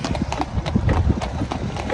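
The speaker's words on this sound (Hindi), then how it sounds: "मैं अपने व्यूवर्स को दिखा सकूँ कि टांगा राइड किस तरह होता है" Horse hooves clip-clop in a steady, fairly loud rhythm as a horse pulls a tanga carriage along a village road in Pakistan, with road and cart noise running underneath.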